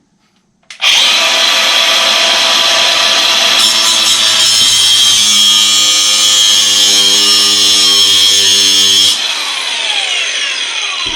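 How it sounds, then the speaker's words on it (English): Close, loud power-tool cutting through toilet bolts, a harsh continuous whine that starts abruptly, holds steady for about eight seconds with a shifting pitch, then stops sharply. "we gotta trim these bolts off real quick."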